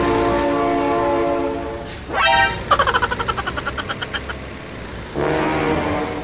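A train with a blaring horn in the BeamNG Drive video game: sustained horn blasts, a rising tonal swoop, then a rhythmic series of clanking pulses before the horn sounds again, loud and near.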